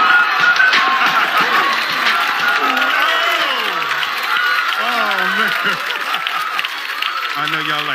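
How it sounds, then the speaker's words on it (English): A stand-up comedy crowd applauds and cheers loudly and steadily for a performer arriving on stage, with whoops and shouts over continuous clapping for the full stretch. "please give this next gentleman a warm round of applause"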